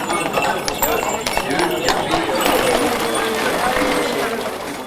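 A team of 21 harnessed, decorated draft horses pulls a ceremonial cart along a procession route in Mazan, each horse led by a groom; steady, busy hoof clatter continues under a crowd and voices throughout.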